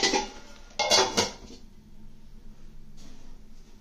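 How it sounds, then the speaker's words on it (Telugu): A metal lid clatters onto a cooking pot of gongura, a couple of close clanking knocks followed by a softer settling scrape and near quiet. "దీని మీద మూత పెడదాం."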